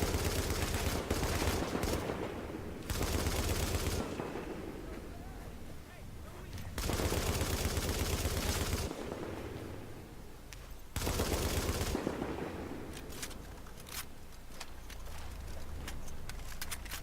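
An LMG fires in The Division during survival play, loud sustained bursts of automatic gunfire repeating in heavy waves with brief gaps between volleys.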